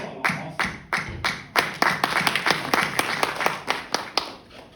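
Students at a leadership conference give a round of applause, starting with scattered separate claps that build into a brisk, fairly close burst of clapping and then taper off.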